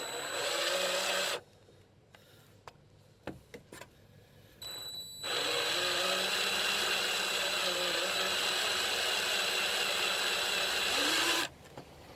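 A power drill whirs steadily in two long bursts, drilling into a broken bolt, separated by a quiet stretch with small clicks and taps.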